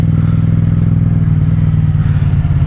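Yamaha MT-07 motorcycle fitted with an Akrapovic exhaust, a loud, close, steady low-pitched engine rumble with a throbbing pulse, holding even throughout with no talk.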